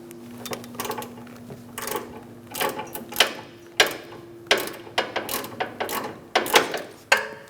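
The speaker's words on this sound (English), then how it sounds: "Using a 16mm socket and a ratchet, we're gonna loosen up our sway bar link nut." A ratchet turning a 16mm socket loosens the sway bar link nut on a 2012-2019 Fiat 500, making close, rhythmic bursts of rapid clicking with short pauses between strokes.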